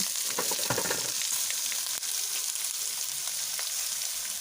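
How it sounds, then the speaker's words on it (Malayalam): Carrot, onion, cabbage and curry leaves sauté in a hot pan with a steady, close sizzle and a few stirring scrapes early on, with no talking. "ഇപ്പോൾ കരിവേപ്പില ഇട്ട് ഇനി നമ്മൾ അരിഞ്ഞു വെച്ച ക്യാരറ്റും സവാള മുട്ടക്കോസ് എല്ലാം ഇട്ട് വഴറ്റാൻ പോകണം."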